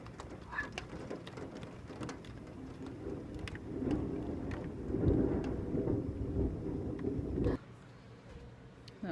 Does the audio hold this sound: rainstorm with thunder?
yes